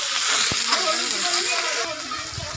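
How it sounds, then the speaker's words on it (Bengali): Chopped onion and tomato fry in a pan while being stirred, a dense sizzling hiss with a scrape or two, quieter toward the end; a voice talks faintly over part of it. "আবারও ভালো করে নাড়িয়ে নিচ্ছি।"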